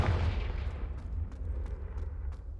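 A Confringo fire spell blasts in the video game Hogwarts Legacy, a booming explosive burst that opens loudly and then rumbles and crackles on for a couple of seconds.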